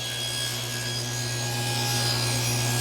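A table saw fitted with a sacrificial fence cuts wood, producing a constant, even motor hum with a steady whirring drone and no pauses across the short stretch.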